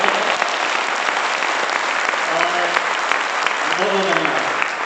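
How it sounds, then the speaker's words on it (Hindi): Loud, continuous audience applause opening an RCM business meeting in Sujangarh, a large crowd clapping steadily while a few voices call out over it. "एक बार जोरदार तालियों से आज के प्रोग्राम को स्टार्ट करें"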